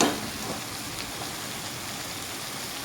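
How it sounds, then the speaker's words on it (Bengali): Small three-spined fish and brinjal fry in a kadai as the pan is shaken, producing a continuous, dense, evenly loud sizzle with no voices. "এইভাবে নাড়িয়ে নাড়িয়ে ভাজতে হবে"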